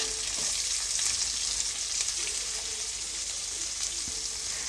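Thinly sliced onion fries with ginger and garlic in a pan for paneer fried rice, giving a steady, close sizzle. Occasional soft stirring sounds come through, with no talking.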